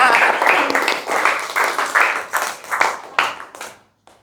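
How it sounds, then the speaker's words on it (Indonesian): Schoolchildren in a classroom clap for a classmate, loud uneven bursts of hand claps that come in waves and thin out toward the end, with a few voices mixed in. "Tepuk tangan dulu buat Reani."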